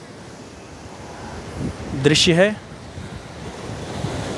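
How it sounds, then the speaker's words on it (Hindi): Sea waves surge against the shore at Nariman Point, Mumbai, a steady wash of surf under wind buffeting the microphone, while someone speaks briefly midway. "लहरें जब भी इधर आती हैं"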